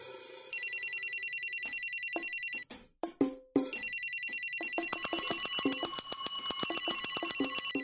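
A telephone bell rings in rapid, evenly spaced electronic trills, loud and close, breaks off for a moment, then resumes with a denser ringing pattern alone.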